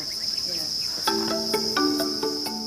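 Dense chorus of crickets on a Thai cricket farm, thousands packed in one tank, with a constant high trill and overlapping rhythmic chirps close up.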